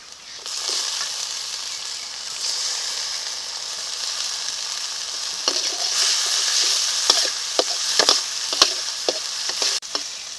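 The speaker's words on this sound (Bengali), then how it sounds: "পেঁয়াজটা ভাজা হয়ে গেছে এখন দিয়ে দেব টমেটো কুচি" Chopped tomato is tossed into fried onions in a pan for dahi chicken curry. Continuous frying sizzle is punctuated by a rapid flurry of spatula clacks and scrapes from stirring, close up, with no talking.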